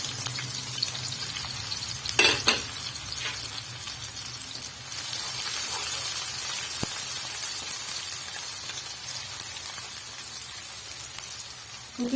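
Onions sizzle in hot ghee in a pan, a steady soft crackling frying hiss with a couple of brief louder spits early on, fairly quiet and continuous.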